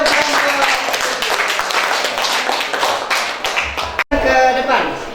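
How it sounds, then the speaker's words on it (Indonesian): Classroom applause for a presenting student group, steady clapping from many hands for about four seconds, then cut off and followed by a teacher's voice speaking. "tepuk tangan untuk kelompok"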